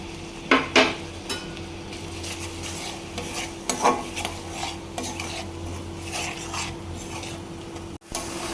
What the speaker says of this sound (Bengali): এটাকে খুব ভালো করে ভাজা ভাজা করতে হবে